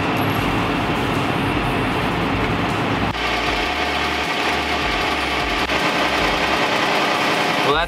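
A portable tire inflator compressor hooked to a car tire runs with a loud, continuous buzzing drone. Its tone shifts slightly partway through, and it stays steady to the end.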